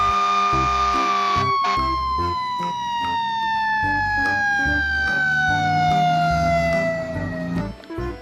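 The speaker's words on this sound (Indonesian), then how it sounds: "Ada sebuah mainan mobil pemadam kebakaran." A toy fire truck blares a steady electronic siren, one long falling wail over a repeating rhythmic beeping pattern, loud and close throughout.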